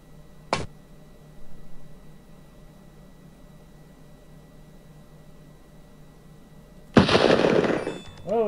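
A suspect fires a gun in the police game Police Quest 3: one sharp, sudden shot early on against a quiet hum, then a longer noisy burst of action near the end.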